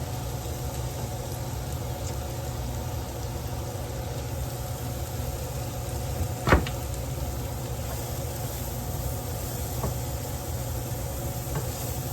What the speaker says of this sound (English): And now we're going to add in the mushrooms and the onions. And we're going to get this cooking